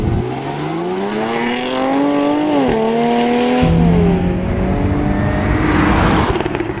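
A supercharged 3-litre V6 engine in a Jaguar F-Type revs and climbs in pitch, drops briefly at a gear change, then holds a steady loud drone near the listener, with no talking.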